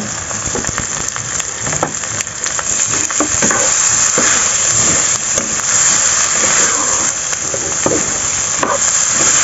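Steady loud sizzling and frying of aromatics for fried rice vermicelli in a hot pan, with scraping and stirring clatter throughout, no voices.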